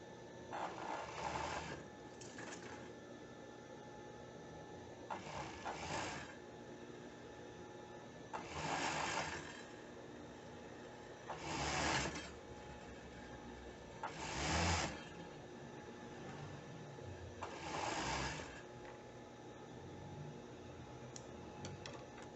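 A sewing machine stitching a swimsuit seam runs in short bursts every few seconds, with a steady mechanical hum between them, close and clear with no talk.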